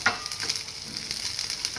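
Finely chopped cashews and dried raisins fry in a pan with oil, giving a steady close sizzle with light crackling and occasional stirring scrapes, and no talk.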